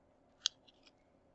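Scissors snip off excess tape on a paper tessellation project: one sharp, close cut, then two softer snips, in a quiet room with no talking.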